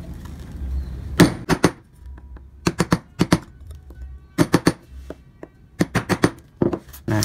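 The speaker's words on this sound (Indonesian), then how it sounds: "Kemudian ini wajib harus dirapikan ya teman-teman, menggunakan pahat kol." A wood carving chisel (pahat kol) is tapped to tidy a carved surface, giving clusters of sharp, close knocks in quick bursts with short pauses between them, alone in a quiet room.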